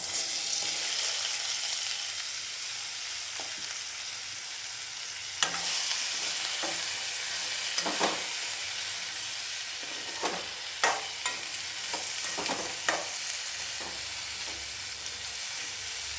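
Sliced okra sizzles in hot oil with ground fenugreek and cumin over a low flame, a steady bright frying hiss broken by scattered scrapes and clinks of stirring, close and without talk.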